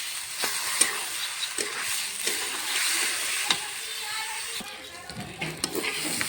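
Potatoes, dal and rice stir-frying with salt, turmeric and chili powder in a pan, a steady sizzle broken by regular scraping strokes of a spatula, close and moderate in level.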